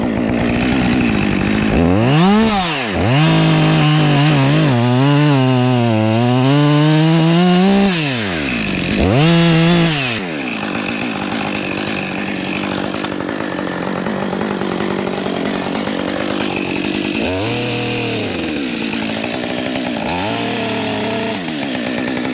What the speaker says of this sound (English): I can pull the chainsaw in until it's aimed at that red thing